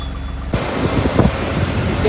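Road traffic in a jam near the Mysuru entrance toll signal, with cars and trucks rumbling past close by in a continuous wash of engine and tyre noise, a few heavier whooshes standing out.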